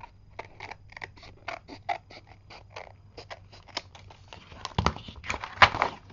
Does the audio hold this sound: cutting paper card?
yes